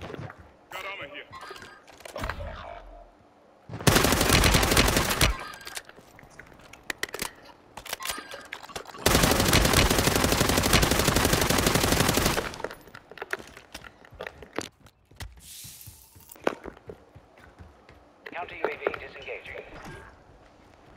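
Machine gun fire in Call of Duty crackles in two long, loud sustained bursts, separated by quieter stretches with scattered shots and game sounds, while players talk over the radio.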